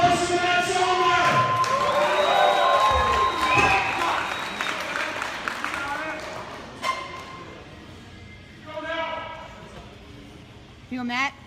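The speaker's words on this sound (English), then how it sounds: "Give me a round of applause for Matt Sohmer." Audience applause and cheering at a powerlifting meet after a record lift, with a burst of clapping and whoops under an announcer's loud voice that fades into scattered claps and shouts.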